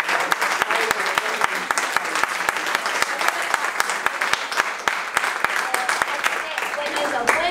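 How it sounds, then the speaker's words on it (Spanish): Audience applauding a bookstore at a school literature event, steady dense clapping from a group with sharp individual claps standing out, sustained and fairly loud throughout, with voices faintly mixed in. "Un aplauso para la librería."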